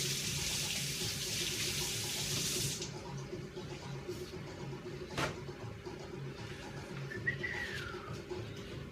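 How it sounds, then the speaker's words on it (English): Tap water runs steadily over two kinds of tomatoes being washed at a sink, a hissing broadband rush for the first few seconds that then cuts off, leaving quieter kitchen sounds and faint bird calls in the background. "So I need to wash it. So I have two different types of tomatoes. Wash the tomatoes."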